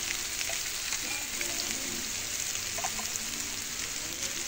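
Soybean chunks and potatoes frying with spices in a hot pan, giving a steady dense sizzle with small pops and occasional stirring scrapes, close and continuous with no talking.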